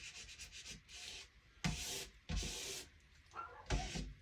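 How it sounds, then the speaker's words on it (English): A squeegee rubs frosted window film onto glass in short scraping strokes, each swipe a close, rough rasp separated by brief pauses, with no talking. "Now let's see if we can just kind of squeegee this thing."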